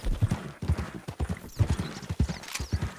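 Horse hooves gallop in a steady rapid clip-clop rhythm across the ground in the Western video game Red Dead Redemption 2, close and fairly loud, with a faint whinny mixed in and no talking.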